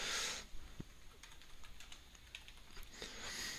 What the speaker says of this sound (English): you could type it in as well